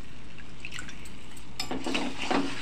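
Water is poured into a cooking pan during home cooking of an egg recipe, starting as quiet drips, then breaking into a brief, brighter splashing pour near the end, close and fairly soft with no talking.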